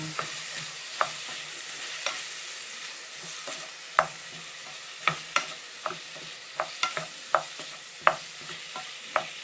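Pork fries in a pan for sweet and sour pork, a steady close sizzle broken by frequent sharp scrapes and clicks of a utensil stirring the meat, without any voices.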